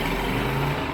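A Briggs and Stratton mud motor sputtering as it almost catches, a loud, close, continuous low engine rumble over the brief moment without settling into a steady run.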